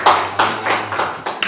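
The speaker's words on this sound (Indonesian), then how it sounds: "Kita kasih tepuk tangan." Short burst of classroom applause, a handful of people clapping in uneven bursts nearby, loose and quick, fading after little more than a second.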